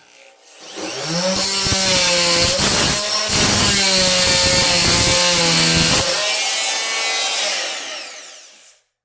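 A Sawzall reciprocating saw bites steadily through wood, a loud, close, continuous buzzing cut lasting several seconds with brief stutters in the stroke before stopping abruptly.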